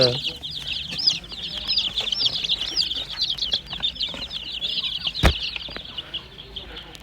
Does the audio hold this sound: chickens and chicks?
yes